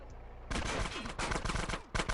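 Rapid gunfire from GTA San Andreas gameplay, loud dense bursts of automatic shots that start abruptly and continue for about two seconds.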